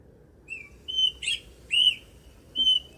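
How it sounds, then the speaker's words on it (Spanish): An Austral thrush sings in a spring garden, a series of clear whistled phrases rising and falling, about four or five short notes separated by brief pauses over a quiet background. "Escuchen el zorzal, es una maravilla cuando canta en primavera."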